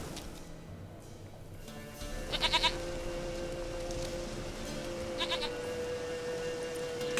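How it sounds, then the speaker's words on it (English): Goat bleating in the video game Witcher 3, two short wavering bleats a few seconds apart, moderately close over a steady ambient game background. "Goat of mine, dearest, sweetest goat."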